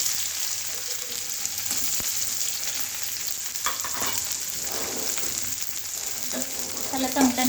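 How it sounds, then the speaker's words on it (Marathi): Mustard seeds, cumin, ajwain and onion sizzle and fry in hot oil for Indori poha, a steady close crackling hiss with occasional stirring scrapes and small pops throughout. "आता तेल गरम झालेलं आहे। आता त्याच्यामध्ये मी मोहरी 1 चमचा, जिरे 1 चमचा, थोडंसं मी अजवाइन, त्यानंतर कांदा"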